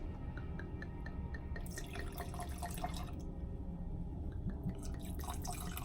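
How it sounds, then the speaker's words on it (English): Wine poured from a bottle into a cup aboard a cruise ship, a steady liquid trickle with dripping splashes that rises and falls over a constant low background rumble, with no talking. "This is how we pour wine in France, you feel me?"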